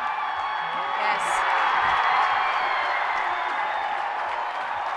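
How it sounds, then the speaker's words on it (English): A crowd at the men's and women's bouldering finals of the 2016 IFSC Climbing World Cup in Vail cheers and claps in a sustained, dense roar, with a commentator's voice running over it. "I'm sure you heard the cheer from the crowd there."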